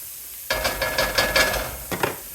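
Food for a homemade cheese dip cooking in a pan, a spatula pushing it around in a short burst of scraping and sizzling that stops and picks up again briefly.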